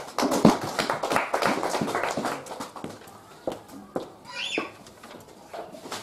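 An audience at a church education-team gathering claps after a closing prayer. The clapping is dense and loud for the first few seconds, then thins to scattered, fading claps.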